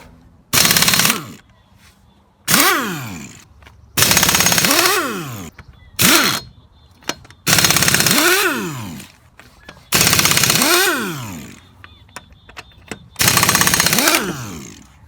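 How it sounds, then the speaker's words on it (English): Pneumatic impact wrench loosening wheel bolts on a Toyota Corolla/Matrix during a tyre change, loud close bursts of rapid hammering rattle repeated about seven times, each with a rising and falling air-motor whine, separated by quiet pauses. "It's an air tool."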